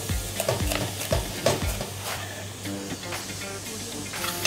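Carrots and multicolored bell peppers sauté in a pan with a soft, steady sizzle, broken by several scraping stirs of a utensil near the start.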